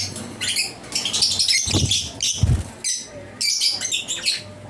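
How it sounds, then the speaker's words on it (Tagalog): Birds chirping and tweeting close by in quick bursts, with soft rustling and a couple of low thumps in between. "hindi itong mga ibon na to, sanay sa mga tao ito mga kapatid, hindi sila mailap"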